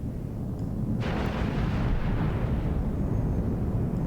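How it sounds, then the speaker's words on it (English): Heavy weapons fire slams into a ship in the EVE Online space game: a deep, roaring blast bursts in after a second and then sustains as a loud, rumbling barrage, with no voices. "We're taking heavy fire, Commander Ferris."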